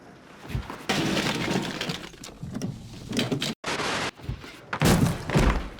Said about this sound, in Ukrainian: через відсутність ключів доводиться вибивати двері ногою